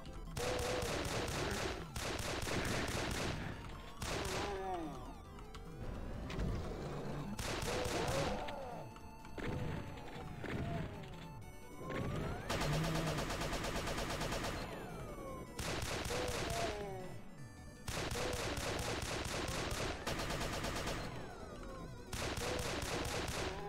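Rapid gunfire from the video game Doom II, loud and sustained in dense bursts of overlapping shots with brief gaps, dominating throughout without speech.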